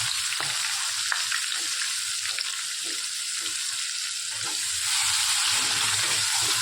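Mustard seeds, cumin, asafoetida, cloves, curry leaves, bay leaf and onion sizzle and crackle in hot oil for a tempering, a steady close frying hiss with scattered pops throughout.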